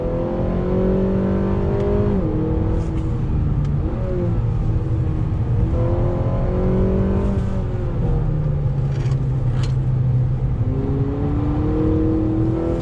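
A 2020 Acura ILX A-Spec sedan accelerates hard in first gear with paddle shifting, its engine revving up in rising sweeps broken by short dips at each shift, loud and steady throughout with no talking.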